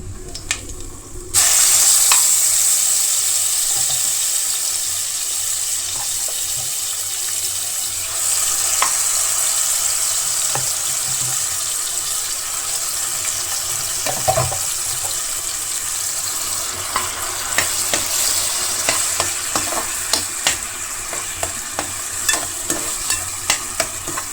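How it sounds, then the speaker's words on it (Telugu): Ginger-garlic paste dropped into hot oil for a restaurant-style mixed veg curry, a sudden loud sizzle that settles into a steady frying hiss, with stirring scrapes and occasional clinks throughout. "సో ఈ పేస్ట్ అంతా కూడా నేను ఆయిల్లో వేసుకుంటున్నాను"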